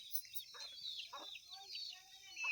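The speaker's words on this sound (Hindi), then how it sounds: "उधर पल्ली साइड भी है, व्हाइट और ब्लैक और ब्लू कलर की बहुत सारी मुर्गियाँ हैं" Hens on a village poultry farm of around a hundred or more white, black and blue birds give soft, scattered clucks and calls, faint and somewhat distant, with no one talking.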